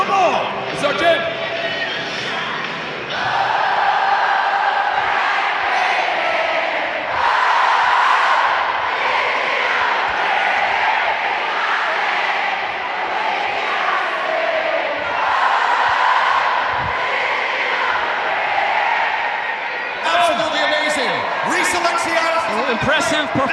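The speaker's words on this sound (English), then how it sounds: "Impressive performances from the crowd so far" A packed crowd of about 45,000 at Citizens Bank Park in Philadelphia chants and cheers loudly through a Savannah Bananas Banana Ball game. The roar holds steady for most of the stretch, then swells with sharper shouts near the end.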